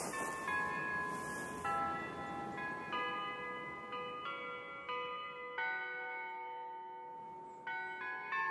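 Several church bells peal in an overlapping, steady sequence, ringing out clearly with no voices.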